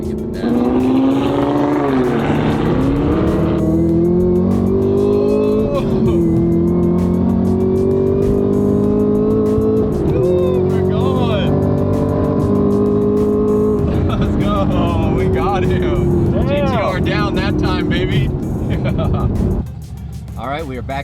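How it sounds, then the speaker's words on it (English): A manual Nissan GT-R race car accelerates hard on a track in a 1,050 horsepower race against an Audi R8, its loud engine note rising and holding through gear changes with tire noise. A voice talks over the engine. "racing our GTR against my dad"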